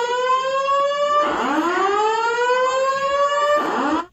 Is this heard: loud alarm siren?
yes